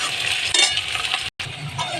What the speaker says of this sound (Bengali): পেঁয়াজগুলো লাল লাল ভাজা হয়ে গেছে